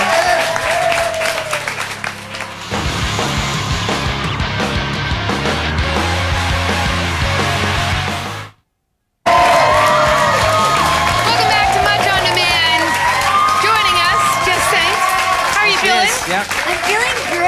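Studio audience at a TV music show applauding and cheering loudly, sustained clapping with whoops and shouts, broken by a brief drop-out before the crowd noise resumes under voices talking.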